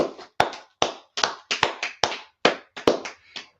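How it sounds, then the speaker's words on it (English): A single pair of hands claps for a class at a gathering, about a dozen sharp, close claps in an uneven rhythm with short gaps between them and no other sound. "So let's clap it up for class right there, man."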